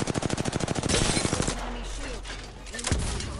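Rapid automatic gunfire in the video game Apex Legends, a dense burst of evenly spaced shots followed by scattered impacts and clatter as the firing stops.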